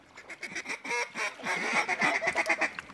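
A flock of ducks quacks during a duck hunt over a decoy spread. Rapid, overlapping calls chatter close by and loud, with no talk.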